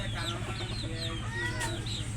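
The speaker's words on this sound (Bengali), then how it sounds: "এটা আমার বড় রাতা আরও যে এটা আমার ছোট রাতা" A big and a small rooster, kept as backyard poultry and recovering from illness, cluck and call softly in short bursts over a steady low hum, with no one talking.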